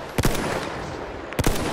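Two short bursts of machine gun fire from Battlefield 1, each a quick cluster of sharp shots, sit over a steady background of battle noise.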